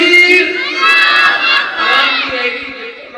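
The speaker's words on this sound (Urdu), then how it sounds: "ان کے آنے سے قبل زوردار نعرے سے ان کو خوش آمدید کہیے گا۔" A large crowd at a religious gathering loudly chants the Naara-e-Takbeer slogan in unison, a sustained roaring shout of many voices that swells and holds for several seconds.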